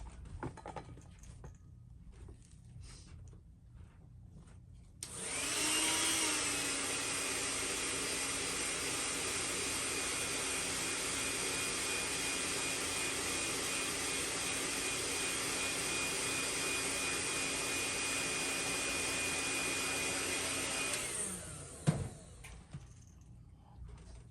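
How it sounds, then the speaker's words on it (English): A heat gun runs steadily for about fifteen seconds to set paint on a Cyclone MR-X fishing lure, a loud constant blowing roar that starts abruptly and cuts off, with quiet room noise before and after. "I'm gonna go ahead and heat set this just to make sure I don't touch it with my hands."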